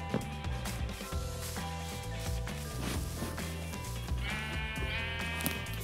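Sheep bleat repeatedly over a busy, layered Minecraft soundscape with a rhythmic low backing tone and scattered clicks.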